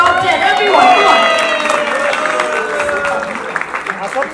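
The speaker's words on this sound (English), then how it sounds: "Can we have a huge round of applause for Oppo and the top 10?" Crowd applause and cheering at an Oppo and Top 10 Retails in-flight phone unboxing event, a dense burst of clapping with voices mixed in that swells early and then tapers off.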